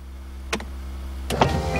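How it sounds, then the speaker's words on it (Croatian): A cartoon convertible's roof lowers at the push of a button, heard as two short whirring motor bursts over a low steady hum. "Možemo li opet spustiti krov?"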